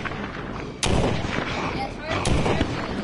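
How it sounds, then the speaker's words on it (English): Two sharp gunshots from a handgun in The Walking Dead: Saints & Sinners, loud cracks about a second and a half apart over a steady low game background, no talking. "Let's see if I can hit this shot with the gun."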